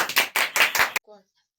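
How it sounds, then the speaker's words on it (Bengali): Hand clapping at a phuchka-eating contest: four quick, loud, evenly spaced claps close by, then it stops abruptly. "হাততালি হাততালি।"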